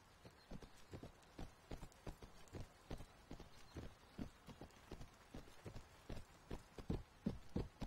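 Horse hooves clip-clop steadily across rough, uneven terrain in the medieval combat game Mount & Blade Warband, a quick, regular rhythm of hoofbeats heard alone at moderate distance.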